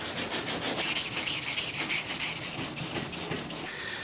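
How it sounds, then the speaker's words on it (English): Steady wet sanding of guide coat on the paint of a 1953 GMC, close and loud, with rhythmic back-and-forth rubbing strokes continuing without pause, no voices. "My goal is just to get the guide coat kind of sanded out, and then I'll go ahead and wet sand it."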